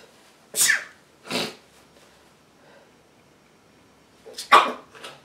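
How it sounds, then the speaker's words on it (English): Two sharp sneezes break out close by, followed later by a louder third sneeze with a short sniff around it; quiet in between. "Excuse me, I'm about to sneeze."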